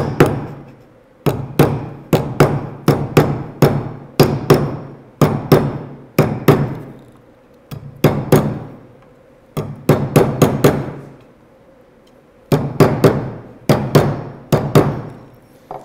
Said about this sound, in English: Put it on the middle and start hammering it and moving it.